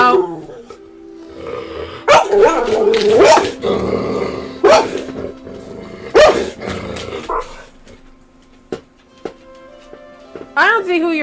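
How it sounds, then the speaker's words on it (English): A dog in a video game barks, growls and yips in several loud bursts spread across the stretch, with a person talking over and between them. "Stop barking at people for no reason."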